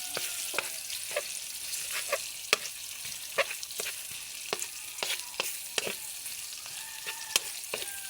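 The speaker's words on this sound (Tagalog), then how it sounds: "Lagay na natin ang sibuyas." Chopped onion and garlic sizzle steadily in a hot pan for a squid dish, with a bright constant hiss broken by frequent sharp clicks and scrapes of a spatula stirring close by.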